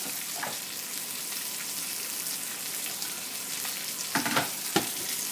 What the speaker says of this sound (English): I've got my chicken. It's nicely sealing